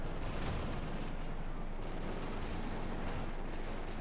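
Tank gunfire and battle noise from the Company of Heroes 2 strategy game, with an M1 anti-tank gun hitting a Panzer IV, forming a dense, continuous, loud rumble of shots and explosions without clear gaps.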